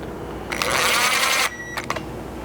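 Stainless number 10 button head screws on a 4th gen Tacoma bed MOLLE panel are driven with a 1/8 inch hex, producing a close, rapid, gritty ratcheting burst of about a second, then a few brief clicks.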